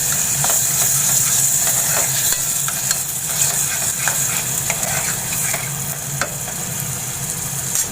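Spinach puree sizzles in hot oil while it is stirred in a pan for a sweet dish. The frying hiss is loud and continuous, with light scraping of the stirring throughout and no talk.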